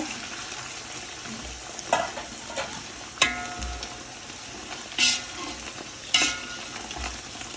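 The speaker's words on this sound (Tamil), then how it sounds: "அப்போ இது வந்து நல்லா வதங்க விடணும்." Ingredients sauté in a pan for biryani, a steady sizzle punctuated by about five distinct scraping stirs of a spoon against the pan, close and moderately loud, with no speech.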